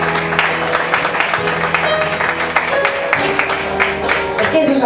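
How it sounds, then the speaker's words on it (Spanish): A studio audience at a televised singing gala applauds steadily for a singer as she comes onstage, sharp claps over a bed of background music and crowd noise. "Un aplauso para ella, por favor."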